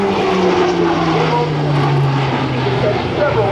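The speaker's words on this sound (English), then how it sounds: "he will demonstrate the power provided by the Rolls-Royce T56 Alpha 427 engine, equipped with a new MP2000 8-bladed propeller" An E-2 Hawkeye turboprop with a Rolls-Royce T56-A-427 engine and eight-bladed MP2000 propeller flies at the 2008 NAS Oceana airshow, giving a loud, steady, close droning roar with a slowly falling tone. An announcer talks over it.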